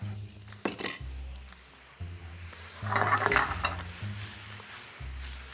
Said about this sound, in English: So we're gonna get all those good juices in here with the mushrooms and green onions and get that all cooking off.